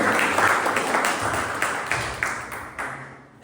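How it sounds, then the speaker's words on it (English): Scattered clapping from a small audience at a Toastmasters club meeting fading gradually, with a few louder claps standing out before it trails off into quiet. "Bigger round of applause for the guest."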